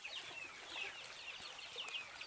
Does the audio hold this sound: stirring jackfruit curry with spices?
no